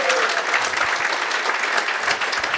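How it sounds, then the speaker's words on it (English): Audience applause for the opening keynote at the SCaLE 19x tech conference in La Jolla: dense, steady clapping from a large crowd, loud and continuous throughout with no talk over it. "One more round of applause for our opening keynote."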